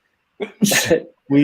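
A single loud, close sneeze bursts out between bits of nearby speech, with talk resuming right after it.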